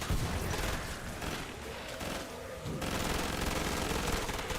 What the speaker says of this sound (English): machine gun pistols do burn through ammo like a motherfucker